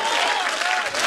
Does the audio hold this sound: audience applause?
yes